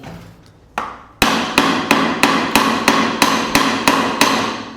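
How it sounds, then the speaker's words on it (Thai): A hammer strikes metal while a Honda Civic FD gearbox is taken apart in a workshop. There is one light tap, then about ten loud, sharp blows in an even rhythm, close by and with nothing else heard. "เอาค้อนมาคราวนี้เราก็ยกมันนิดนึงยก"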